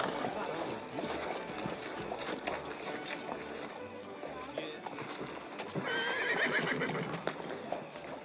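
Horses clip-clopping and a horse neighing loudly partway through, with people talking over the hoofbeats throughout.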